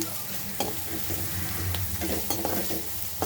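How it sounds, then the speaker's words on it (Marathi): Bell pepper sabzi stir-fried over a medium gas flame: a soft continuous sizzle, broken by occasional knocks and scrapes of a spoon against the pan, heard close with no voices. "आणि याला सुद्धा असं व्यवस्थित परतून घेऊया ही सगळी प्रोसेस आपण मिडियम गॅसवरच करायची आहे"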